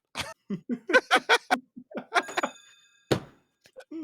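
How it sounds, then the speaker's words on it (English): A single bright bell ding rings out briefly amid bursts of laughter and short vocal sounds from people nearby. "That's a ding."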